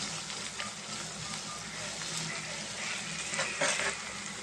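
Onions with ginger garlic paste frying in a pan for a brinjal dry fish curry, a steady close sizzle with crackling bursts and stirring, no talking.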